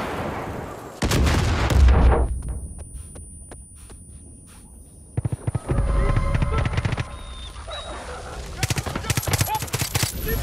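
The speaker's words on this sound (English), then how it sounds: "Throwing all the grenades." Grenade blasts and gunfire in the shooter game Far Cry 5, loud booming bursts at the start, then a quieter stretch before renewed clattering explosions and shots fill the second half.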